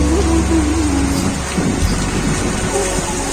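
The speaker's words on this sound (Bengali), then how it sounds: "অনেকদিন পর বৃষ্টি এলো" Steady rain falling after a long dry spell in a village, a dense continuous hiss with faint low rumbling, no speech over it.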